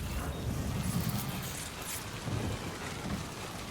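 Night rain in Death Stranding 2 falls as a steady broadband hiss with low rumbling swells, dense and continuous at moderate loudness, with no voices.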